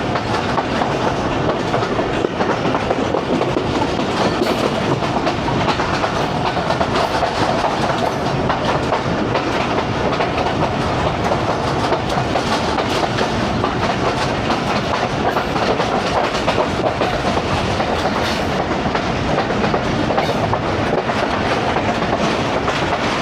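A passenger train on the Lahore to Narowal line runs steadily along rail tracks through green fields, its wheels giving a continuous clickety-clack with loud, close rumble throughout and no talk.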